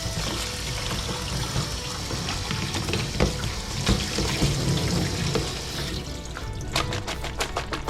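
Cut giant bamboo shoots being washed by hand in running water outdoors, a steady close trickle and splash of tap water with sloshing and clattering, growing busier toward the end, no talking.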